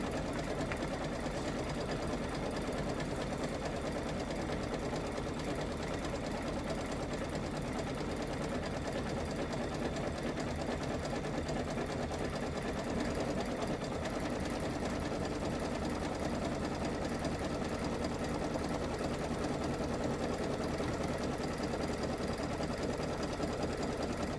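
A domestic sewing machine runs steadily at a craft table, stitching a party hat with a continuous dense whir throughout, close and fairly loud, with no talk.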